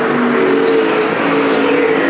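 Street stock race cars roar at Perris Auto Speedway during a main event, a loud continuous engine drone with a steady high whine, no voices present.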